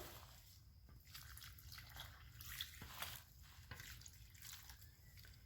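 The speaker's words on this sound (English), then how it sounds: "I'm going to give them some water." Water trickles and drips onto soil around freshly planted elderberry cuttings, a faint, close, continuous soft splashing with occasional small drips.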